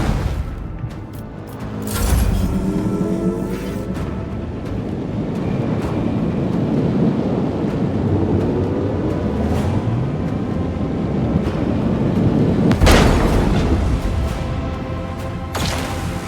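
Starship macro cannons in Warhammer 40k: Rogue Trader roar as a sustained heavy rumble, with sharp loud blasts near the start and again toward the end over a churning mechanical drone.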